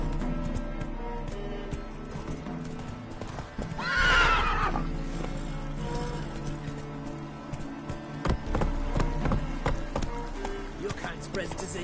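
Horse hooves clip-clop at a gallop in The Witcher 3: Wild Hunt on PS4. The pounding runs steadily through the scene with a loud neigh near the start, over game music and effects, with a rider's voice urging the horse on.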